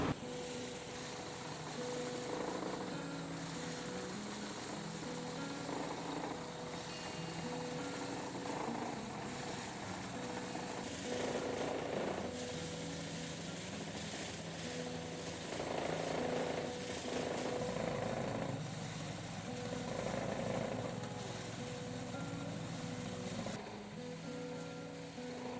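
A manually operated rice dehusking machine in the Philippines, used for rare green Duman rice, runs with a continuous rattling, pounding mechanical drone and repeated knocking pulses, faint and steady throughout.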